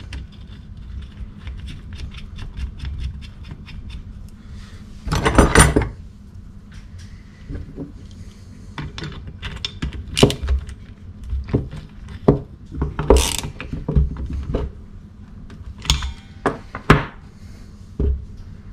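Scattered clicks and clunks of a ratchet tightening the screw on a Honda MT50 brake arm, close but fairly quiet, with irregular bursts of louder metallic clatter over a low hum, no speech.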